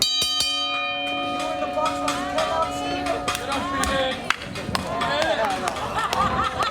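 A wrestling ring bell clangs in a quick burst of strikes at the start, its ring lingering under a noisy crowd and voices.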